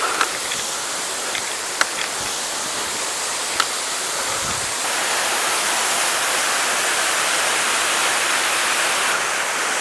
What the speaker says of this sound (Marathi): आता हे जो धबधबा आहे तो असं वाटतं एकदम एकच टप्प्यात पडतो